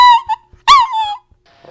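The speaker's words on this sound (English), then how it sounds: "Right, now this is my dog, Honey." A pet dog whimpers and yips in two loud, close, high-pitched bursts, the second longer and falling, separated by a short pause, with no talk over them.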